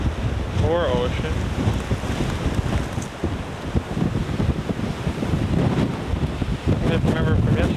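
Gusting wind buffets the microphone at a seaside point on a beach, with surf and ocean noise behind it and a voice briefly heard in the gusts.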